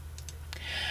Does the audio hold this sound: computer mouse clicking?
yes